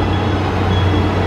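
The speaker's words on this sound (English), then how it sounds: "Look at the monorail coming down." Walt Disney World monorail passing, a loud, steady low rumble with broadband rushing noise, close and continuous over its brief length.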